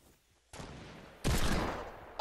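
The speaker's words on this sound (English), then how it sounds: "Oh, see, I hear that shot." Gunfire in Fortnite, heard as two bursts of sharp, noisy shots that swell suddenly and fade, fairly close and loud, with no talk over them.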